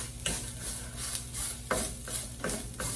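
Sautéing in a pan for Albanian pasul with bacon and veal: a close, continuous sizzle with repeated scraping strokes of a utensil against the pan at an uneven rhythm.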